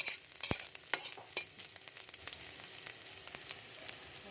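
Garlic and onion fry in a pan for chicken adobo. It is a faint, close sizzle with sharp clicks and scrapes from stirring scattered through it, and there is no talking.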